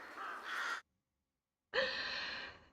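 Two harsh, drawn-out crow caws from the indie otome video game Everyday Love, separated by a short silence, fairly close and clear with no talking.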